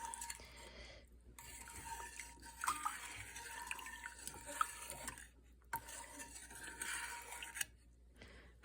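A spoon stirs sugar into water in a pot while making sweet tea, giving soft repeated scraping and swishing in quiet bursts separated by brief pauses.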